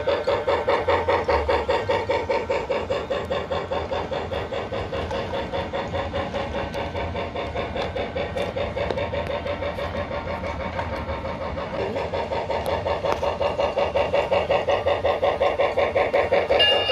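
A Lionel Thomas & Friends toy train runs along its track with a loud, steady, rhythmic motor whir and clatter that keeps going throughout.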